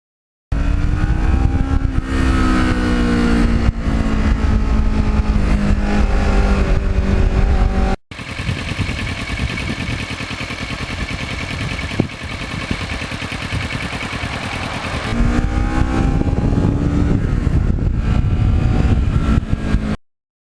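A black 2009 Kawasaki Ninja with an offset side-mounted rear shock rides northern New Jersey back roads, its engine loud and close throughout, revving and climbing through the gears, with a brief cut near eight seconds and a steadier drone in the middle.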